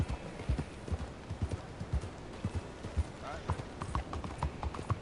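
Horse hooves clip-clop in a steady rhythmic gait in Red Dead Redemption 2, moderately loud and close, with a person talking over the hoofbeats.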